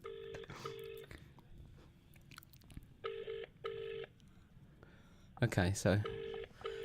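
Telephone call ringing out on loudspeaker, repeated paired ringback tones at a steady rhythm, with someone speaking briefly and some louder handling noise in between.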